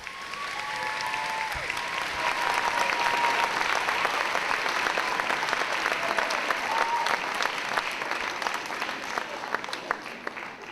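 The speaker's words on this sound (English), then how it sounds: "I would like for us to give a round of applause to all of the veterans who took time out of their days to be here with us" Sustained applause from a school assembly crowd honoring veterans at a middle school Veterans Day event, steady and fairly distant, filling the whole stretch without a break.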